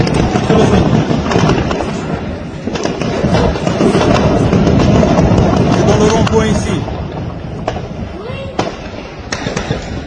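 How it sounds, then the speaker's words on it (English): Gunfire at a roundabout in Conakry, Guinea during a coup, with scattered sharp cracks and pops spread across a dense, noisy street backdrop while a person speaks close by. "Ils sont en train de tirer."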